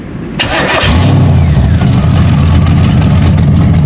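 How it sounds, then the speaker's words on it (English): A 212 drift kart's small engine cranks briefly, then catches and roars into a loud, rough idle that keeps running close by. "We'll turn the key, flick the fuel on, and we'll give it a second here."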